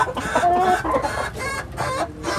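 Rooster and hens in a farm coop give repeated clucking calls with a brief crow-like phrase, close and fairly loud, with fowl sounds filling the whole stretch.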